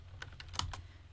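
Typing on a computer keyboard, four quick distinct key clicks close to the mic over a low background hum.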